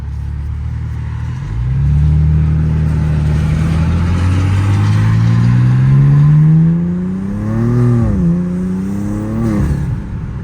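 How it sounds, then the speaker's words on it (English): A tuned 2024 BMW M2, modified up to roughly 750 hp, revs hard while driving, its engine note climbing in pitch through the gears with loud turbo whoosh and spool, recorded close from inside the car. "the turbo noises are super loud with this thing"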